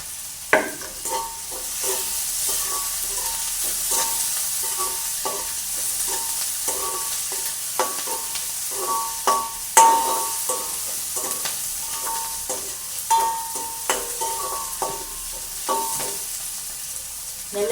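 Chopped green chillies fry in a pan, a steady sizzle broken by frequent sharp crackles and pops and occasional stirring scrapes, close and clear with no talking.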